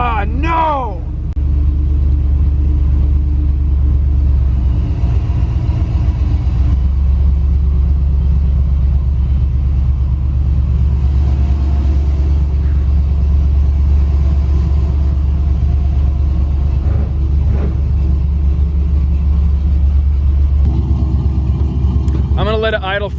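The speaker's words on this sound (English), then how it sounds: "Let it idle for a bit because I haven't had this thing fired up in probably like 4 days." A supercharged street truck engine idles steadily after a cold start, with a loud, continuous low rumble that holds through to the end.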